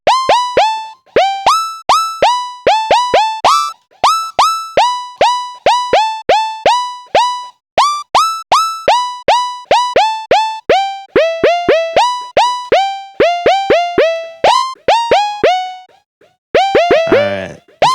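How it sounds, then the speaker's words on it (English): A synthesized sound effect, a quick rising-pitch floop, repeated dozens of times in rapid succession: loud, bright tonal blips sweeping upward, clustered in fast trains with brief gaps between groups. "it's gonna go rise up in pitch pretty quickly, but it's gonna sound like a floop"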